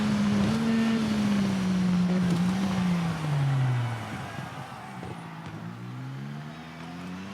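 In TT Isle of Man 2, a supersport racing motorbike screams at high revs, then the engine note sags sharply as the bike slows, before climbing again under throttle; loud and close throughout.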